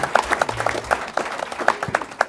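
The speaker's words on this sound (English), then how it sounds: "Audience, please join me in giving them a round of applause." Applause from a city council meeting audience, a moderate scatter of claps in a hall over low room noise, with a faint voice in the background.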